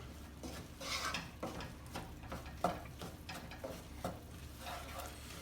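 Farro risotto with Parmesan and a pat of butter is stirred in a pot, a quiet run of rhythmic spoon scrapes and soft clinks against the pot over a faint sizzle.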